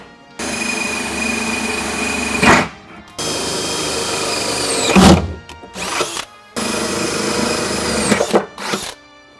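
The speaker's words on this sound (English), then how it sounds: "take a big 3/4 inch drill bit to punch out the holes" A power drill with a 3/4 inch bit bores holes in a Ford F150 truck bed, loud whining runs of about two seconds each in three bursts, broken by short pauses and clunks as the bit punches through.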